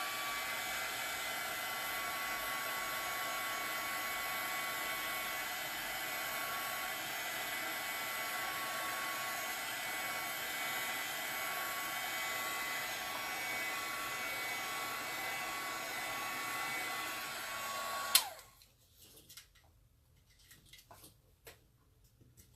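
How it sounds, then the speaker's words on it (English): A heat gun dries chalk paste transfers with a steady, even blowing whoosh for about eighteen seconds before cutting off, leaving near-silence with faint handling sounds; close and fairly quiet, no speech. "I'm gonna dry these again with my heat gun."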